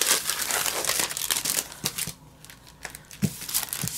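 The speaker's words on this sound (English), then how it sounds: "I'm going to go ahead and put this back in the little plastic" Small plastic bag crinkled by hand while packing a kit, a close, busy rustling that eases in the middle and then returns with a few sharper crackles.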